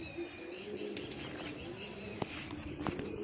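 Pigeons cooing at a loft before release for a flying contest, soft low coos steady through the clip with a few chirps and brief wing flaps, fairly close, no talk.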